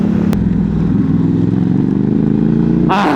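A newly acquired motorcycle with a quick shifter runs loudly and steadily while being ridden, its engine drone close and continuous, with a brief rising rev or shift near the end.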